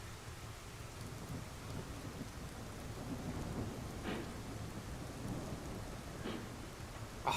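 Heavy rain pours in a dense, steady wash, with occasional louder splashes and rumbling low swells that suggest thunder in the distance.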